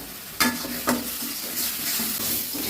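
A spice paste of ground green chilli, onion, ginger, cumin, garam masala, salt and turmeric sautés in a pan, with a soft sizzle and a few sharp spoon scrapes and stirring clatters near the start.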